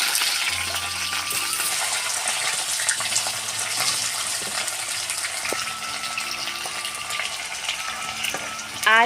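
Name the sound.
potatoes frying in mustard oil in a wok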